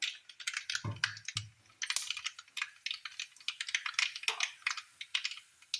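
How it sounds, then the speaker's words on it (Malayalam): Rapid, irregular crackling pops of mustard seeds spluttering in hot oil, close and quiet, with a few dull knocks early on. "കടുക് പൊട്ടിയിട്ടുണ്ട് കേട്ടോ"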